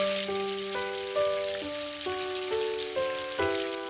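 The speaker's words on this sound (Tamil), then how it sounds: "பொடிசா நறுக்கிய ஒரு வெங்காயத்தையும் சேர்த்து நல்லா வதக்கிக்கலாம்." Cashews, garlic and chopped onion fry in a pan, giving a steady, rain-like sizzle under a simple melody of stepped musical notes.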